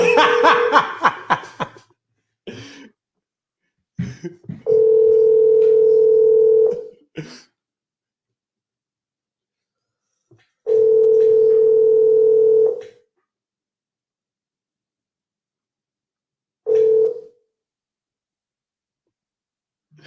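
Long steady phone ringback tones repeat three times with gaps, coming before a voicemail greeting on a call to a phone that is not working, with some laughter and talk at the start.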